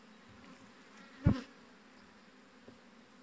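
Honeybees buzzing around an open beehive with a honey super added, the frames above only partly built; a low, steady hum of many bees continues throughout, with one brief soft knock near the middle.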